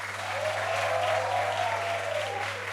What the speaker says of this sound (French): Et ils sont prêts, eux, on peut les applaudir très fort.